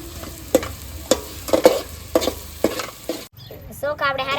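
A spoon stirs spices frying in a pan for Kathiawadi masala pulao, making sharp rhythmic scrapes and knocks about every half second over a soft sizzle, ending in a brief quiet patch and a louder burst.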